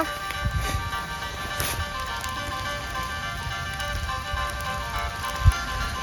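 Steady rain patters all around in a dense, hissing wash in a forest, with a few louder drips and a brief thump near the end.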